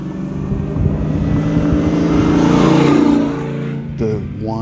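A 1968 Camaro pro-touring build with a supercharged LSA V8 revs hard, the tone climbing and holding for a few seconds before dropping off, then a quick blip rising again near the end.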